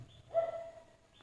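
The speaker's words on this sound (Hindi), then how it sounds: "और चिड़ियों का भी चहचहाना हो रहा है।" A single faint bird call, a short cooing or whistled note against a quiet outdoor background.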